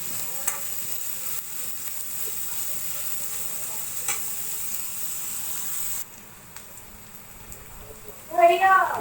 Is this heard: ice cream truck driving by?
no